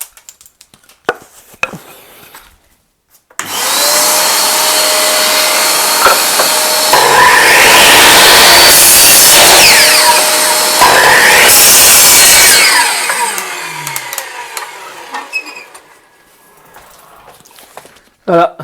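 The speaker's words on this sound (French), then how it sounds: "un petit aspirateur couplé à une scie à onglet" A small vacuum cleaner runs loud and continuous alongside a miter saw cutting flooring or decking boards, with a steady broadband roar and grinding saw passes, then it winds down as power cuts out, with brief talk before and after.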